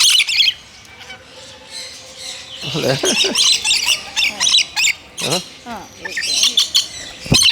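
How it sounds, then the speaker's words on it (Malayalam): Loud, harsh squawks from a crowd of exotic birds, overlapping and chattering in bursts, close by with brief pauses between flurries. "മൊത്തം കിളികളാണ്"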